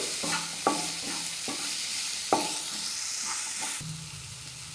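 Spices including coriander powder, chilli powder and garam masala stirred in a hot pan, with steady frying sizzle and several sharp scraping strokes of a spoon against the pan, close and alone.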